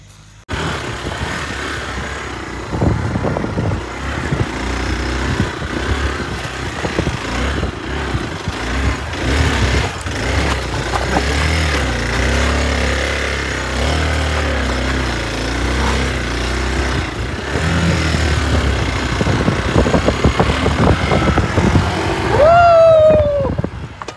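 A motorcycle ridden off-road gives a steady, close engine drone with rough revving surges throughout, and a brief rising high whine near the end.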